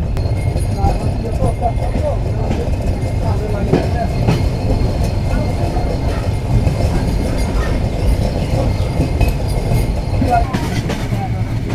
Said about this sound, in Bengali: আন্তনগর নীলসাগর এক্সপ্রেস পাক নিয়ে এগিয়ে যাচ্ছে নাটোর রেলওয়ে স্টেশনের দিকে